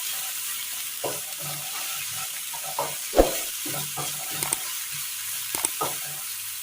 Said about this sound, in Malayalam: സബോള ഒന്ന് വഴറ്റിയെടുക്കാം ഇത് ചെറുതായി ഒന്ന് വാടി കിട്ടിയിട്ടുണ്ട്